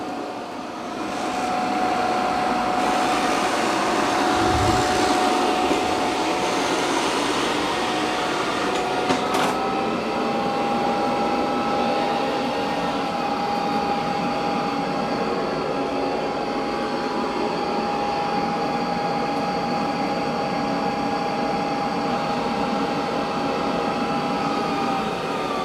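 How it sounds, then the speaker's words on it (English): A Eufy Omni C20 robot vacuum running on a floor, giving a steady, even whir with a sustained tonal whine that holds throughout, continuous and close, with no talking. "it's doing a good job of vacuuming"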